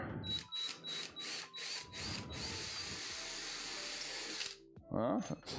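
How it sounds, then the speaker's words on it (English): A power drill in a workshop bores a bigger hole, running in several short bursts before one long sustained whir, followed by a brief clatter and a louder mechanical rattle at the end. "So now we can drill a bigger hole in here."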